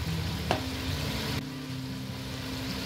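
Dry ground spices, red chili, coriander and cumin, roasting in a pot for Kashmiri chicken harisa make a steady, soft sizzle throughout, with one brief scrape near the start over faint background music.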